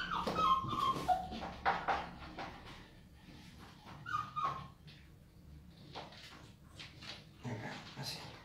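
A Maltese dog being groomed gives short whimpers and yips, a few high whiny bursts among scissor-like rustling and handling noises, close, with no talk over it.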